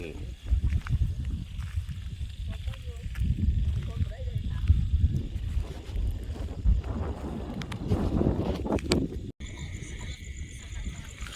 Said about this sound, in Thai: ลมชิวๆ ขนาดเลยนะครับ